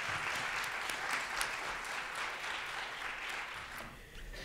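An audience at a haiku festival awards program applauds a poet in steady, moderately distant clapping that holds evenly before thinning slightly at the end.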